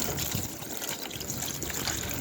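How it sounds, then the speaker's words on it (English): Concentrated SuperClean degreaser trickles and splashes steadily over the top of an engine part, a continuous close watery pour with no talking. "Just pouring enough over the top"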